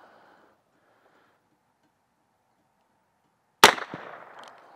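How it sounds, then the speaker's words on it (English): A single sharp report from a Heritage Rough Rider revolver fired at a small steel target, loud and sudden after several seconds of near silence and trailing off in a brief ringing echo. "Shooting steel like that's pretty fun."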